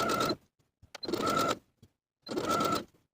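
A sewing machine edge-stitches close to the inner fold of a dress armhole binding in three short, steady bursts of rapid stitching, each under a second long, separated by brief pauses and close by.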